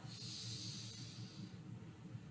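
Slow nasal breathing during cat-cow yoga: a soft, airy inhale through the nose fades into a quieter exhale, close and faint with no talking.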